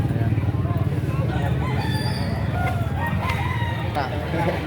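Roosters crow repeatedly at a Saturday chicken market in Lipa City, Batangas, near and loud over a constant crowd murmur, with people talking nearby.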